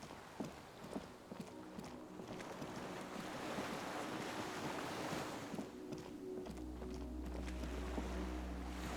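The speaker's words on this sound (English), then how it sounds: "The skiff is swaying on the waves by the dock." Gentle waves lap and slosh against a wooden dock where a small skiff sways, set in the game Disco Elysium; a steady wash of water and wind runs throughout with a few soft knocks, and a low hum joins near the end.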